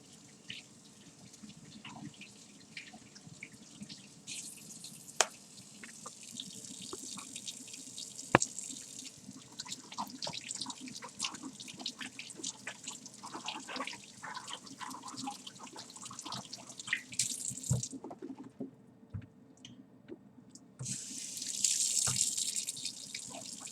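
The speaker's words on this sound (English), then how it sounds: "So we will wash the peppers." Tap water runs into a sink while peppers are washed with soap, a steady splashing trickle with drips and brief louder gushes near the end, close by and without talk.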